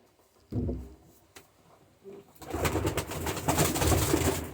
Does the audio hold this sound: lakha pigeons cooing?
yes